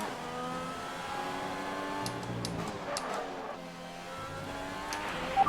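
Race car engine in the F1 2020 video game on the final lap, a steady high-pitched whine with rising and falling pitch sweeps as it accelerates through the gears, continuous and fairly loud.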